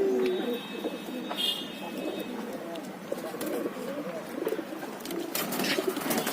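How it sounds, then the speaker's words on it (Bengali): Domestic pigeons coo repeatedly around a home coop, their soft rolling calls overlapping at close range with a few brief chirps and faint background noise. "কি সুন্দর ডাক, বাক বাকো, ডাকো ডাকো।"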